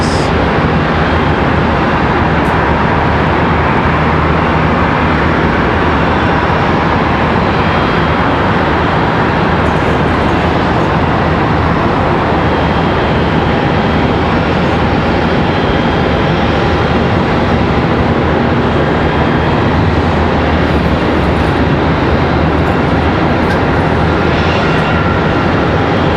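A PSA Airlines CRJ 900LR regional jet arriving at Charlotte Douglas airport from Columbus, Ohio produces a loud, continuous broadband roar that holds steady for the whole stretch, with no voices over it.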